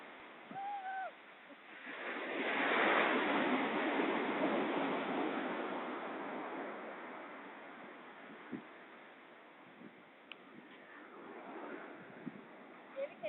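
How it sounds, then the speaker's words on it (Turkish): A broad wash of surf swells up and rolls on for several seconds, then fades, with faint voices at the start and scattered small splashes near the end. "dalga geliyor"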